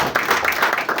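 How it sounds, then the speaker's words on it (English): An audience claps together at a business community event for a bank partnership, a loud, dense burst of applause lasting about a second. "Please a huge round of applause for Molu and Salat."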